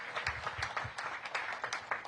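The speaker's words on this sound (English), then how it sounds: "Let's give them another round of applause." A short burst of audience applause at a public event, many hands clapping in a quick uneven patter, fairly faint and distant.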